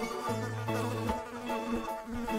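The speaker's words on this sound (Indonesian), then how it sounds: "Ini seekor lebah." A steady bee buzz drones close by in Jurassic World Evolution 2, with a low electronic tone and layered game-style sound around it, lasting a couple of seconds.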